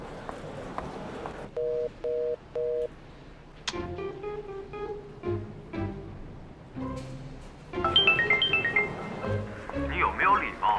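A telephone busy tone after a caller hangs up, with three short evenly spaced beeps standing out clearly before music and other sounds take over.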